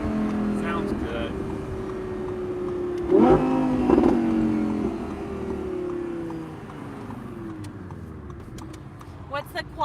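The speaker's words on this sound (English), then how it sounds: "Oh, listen to that exhaust." A 2020 Audi R8 V10 Performance Spyder's exhaust rises and falls through a few revs nearby, with one sharp blip in the middle, while people talk over it.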